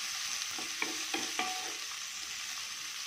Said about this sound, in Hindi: अब इसे हम अच्छे से ब्राउन करने तक पकाएंगे प्याज लहसुन अदरक को।